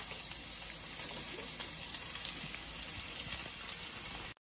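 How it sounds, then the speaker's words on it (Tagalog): Water pouring into a cooking pot while preparing lechon kawali kare-kare, a steady faint splashing rush that runs continuously for about four seconds before cutting off abruptly. "lalagyan ko ng tubig"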